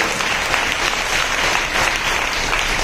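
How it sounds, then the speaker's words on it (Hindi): A church congregation claps loudly and continuously in praise during a women's worship service, a dense, even roar of many hands filling the room without pause. "जोर से ताली बजाइए अपने परमेश्वर।"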